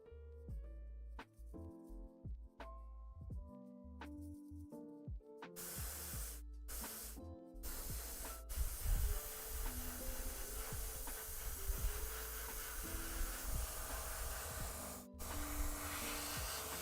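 Airbrush hissing as it sprays paint onto Warhammer 40k miniature parts, a steady airy spray running under music with brief stops between passes.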